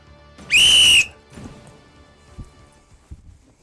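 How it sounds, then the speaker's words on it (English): A referee's whistle blown once to signal kickoff, a loud sharp blast of about half a second, followed by faint room noise and a few soft knocks. "let's blow the whistle"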